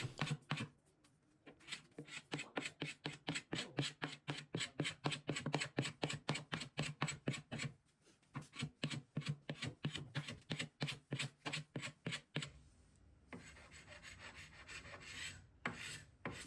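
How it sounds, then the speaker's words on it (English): A hand scraper drags repeatedly across wooden furniture, stripping off the old finish in a fast, steady rhythm of close raspy strokes, with a short pause midway and a rougher scrubbing sound at the end. "I can just go in and scrape the finish off"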